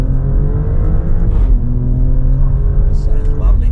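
An Alfa Romeo Stelvio Quadrifoglio SUV pulls hard under acceleration, its engine note rising steadily, then dropping with a gear change and climbing again, loud and close throughout.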